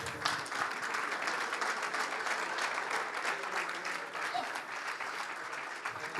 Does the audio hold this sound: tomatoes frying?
no